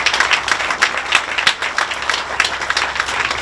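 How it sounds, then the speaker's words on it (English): Crowd of co-op members applauding at a market ribbon cutting, lighter, sparser clapping with distinct individual claps, moderately loud and fairly close. "Please give yourself a round of applause."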